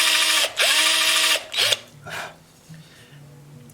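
A dull drill bit boring into wood on a quilted mandolin gives a few short bursts of harsh whirring and rasping, close up, then quieter scraping and a low hum.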